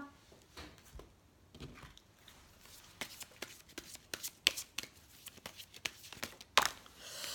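Oracle cards handled and shuffled by hand, a run of soft papery riffles and crisp taps that grows busier and louder toward the end, close up and without speech.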